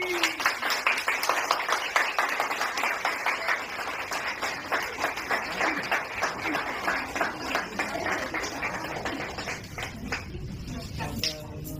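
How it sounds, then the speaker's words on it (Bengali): Applause on a TV serial shooting set, many hands clapping rapidly and continuously for several seconds at moderate distance, tapering off toward the end. "জোরে হাততালি"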